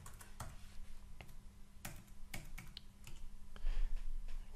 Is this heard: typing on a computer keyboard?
yes